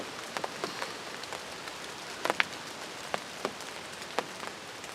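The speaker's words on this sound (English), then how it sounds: "just want to tell you, it's raining." Steady rain patters on a nearby hunting blind during turkey season, with scattered louder drops and taps standing out against the continuous hiss.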